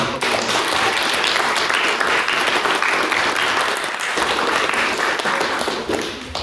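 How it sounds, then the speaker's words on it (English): Steady, dense applause from a large debate audience, loud and continuous throughout with no pauses. "I think that deserves a round of applause again."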